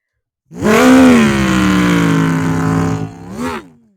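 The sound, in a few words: NASCAR race car engines starting, stop-motion video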